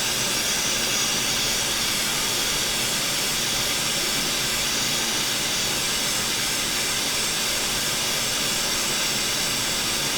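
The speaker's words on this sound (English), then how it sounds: "I'm moving the heat gun around" A heat gun blowing hot air over a PlayStation 5 module during a repair, a steady, loud, airy hiss with a low whooshing roar that runs unbroken throughout.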